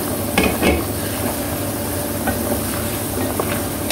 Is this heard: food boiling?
yes